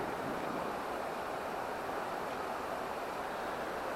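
West Canada Creek flows beside a campground near Herkimer, giving a faint, even, steady rush of moving water throughout, with no voices over it.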